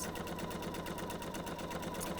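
A sewing machine runs steadily as it stitches quilt pieces together, a quiet, even mechanical whir with a fast rhythmic needle pulse throughout, no voices.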